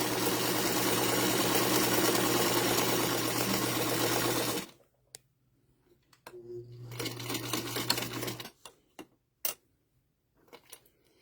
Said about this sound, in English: Now this machine only does a straight stitch.